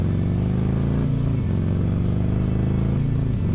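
A motorcycle engine drones steadily while riding home on the road, heard from the rider's position with continuous wind and road noise and small shifts in pitch as the revs change.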